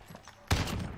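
Gunfire in Call of Duty: Warzone erupts as one sudden, loud burst halfway through a brief moment of quiet game ambience.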